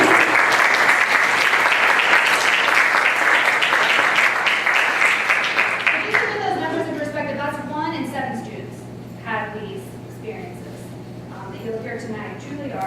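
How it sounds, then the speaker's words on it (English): Loud, dense applause from an audience at a civic fellows symposium fills the first six seconds, then fades into scattered claps under a speaking voice. "I think we should just clap for that."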